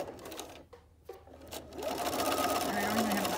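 A sewing machine back stitches over the start of a skirt hem in double gauze fabric, its motor whirring in short bursts before settling into a loud steady run, with a voice talking over the early part.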